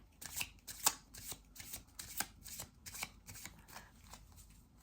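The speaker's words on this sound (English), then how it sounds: "Now I wonder where I can put this card." Oracle cards are shuffled, handled and set down on a surface at close range, a steady run of quick papery riffles and soft slaps with no talking.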